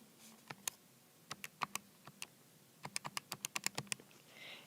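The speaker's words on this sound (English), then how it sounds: "Now let's type that in our calculator." Numbers typed into a calculator, a string of quick, sharp button clicks in irregular bursts with short pauses, close and clear against a quiet background.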